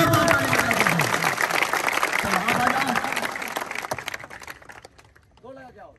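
A group at a physical fitness test ground claps loudly and fast in a dense burst of applause that fades out toward the end, followed by a brief voice.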